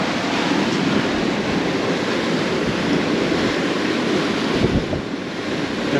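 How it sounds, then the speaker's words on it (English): Sea water spray and rushing waves break over the bow of a sailing catamaran under sail in about 26 knots of wind, a loud, continuous roar of water and wind buffeting the microphone with no voices. "you can see the whoa, water spray coming over the bow"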